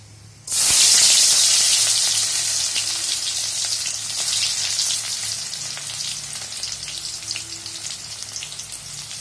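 Garlic and black cumin seeds hit hot oil, setting off a sudden loud hissing sizzle with spattering crackles that settles into steady frying and fades slightly over nine seconds.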